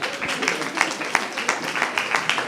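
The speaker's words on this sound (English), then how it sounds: "Give yourselves a clap." Audience members at an arts education symposium clap together in a brisk, uneven burst of hand claps, fairly close and moderately loud, lasting a couple of seconds.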